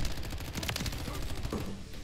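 Rapid automatic fire from a Hybrid Chimera rifle in a shooter video game, a dense stream of loud, closely spaced shots that runs for about two seconds.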